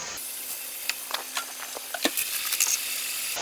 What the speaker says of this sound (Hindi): ये मसाला जितना अच्छा भुना होगा उतनी ग्रेवी आपकी मज़े की होगी।